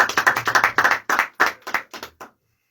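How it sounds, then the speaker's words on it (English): A small audience claps for an interview guest, a quick flurry of distinct hand claps that thins out and stops after about two seconds, with no talking over it. "Everybody clap it up for Mr. Chris."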